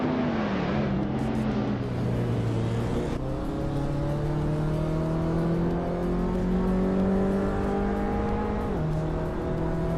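Race cars roar in a racing video game at the Sydney Homebush Street Circuit, including a 2006 Vauxhall Astra VXR, engines droning loudly and steadily with pitch rising through gears and dropping at shifts, several cars layered together.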